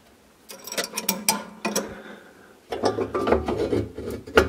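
A fireplace damper's metal lever is worked against its notched bracket, giving close, bursty scraping and ratcheting clicks in two clusters with a short pause between.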